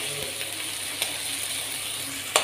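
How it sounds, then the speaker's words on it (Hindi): Tomatoes cook in a pan with green chillies for sabudana khichdi, giving a soft, steady sizzle and crackle with a few light clicks and taps near the end. "इसको हम थोड़ा सा पका लेते हैं अपने टमाटरों को भी"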